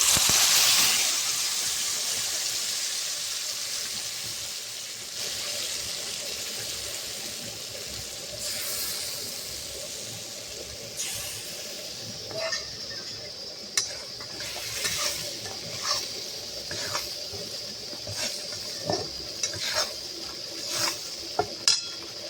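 Spice paste sizzles in a pan for a bitter gourd dish, starting with a loud hiss that settles into a softer fry. Clinks and scrapes of a spoon stirring the pan come more often toward the end.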